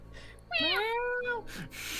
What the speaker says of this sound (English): No, it's the fucking cat again.